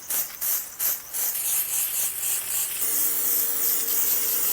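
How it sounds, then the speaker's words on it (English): An aerosol can of coil cleaner hisses steadily onto the coils of an outdoor AC unit, a bright continuous spray broken by a few short pauses early on, close by and without talk. "I'm just going to spray this outside."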